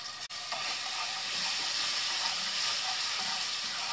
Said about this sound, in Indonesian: Ini kita gongso bawang putihnya dulu.